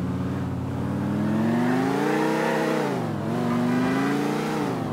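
A car engine in the video game GTA IV revs and accelerates, its pitch climbing, dipping briefly and climbing again as the car drives, loud and close with no talk.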